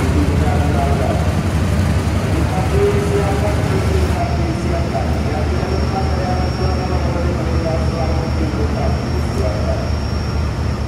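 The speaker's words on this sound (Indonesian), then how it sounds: "perjalanan kereta Tawang Jaya Premium akan dilayani oleh lokomotif seri CC201 8314 Depo Purwokerto" Interior ride on the Tawang Jaya Premium train hauled by CC201 locomotive 8314 of the Purwokerto depot: a steady, continuous low rumble of wheels and carriage noise with a faint high whine partway through.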